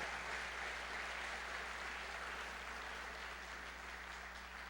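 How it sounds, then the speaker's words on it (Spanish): Applause from a church congregation for a pastor's sermon, a steady wash of many hands clapping at moderate level without pause, with a low electrical hum underneath. "Dele el aplauso al Señor si se lo va a dar de verdad"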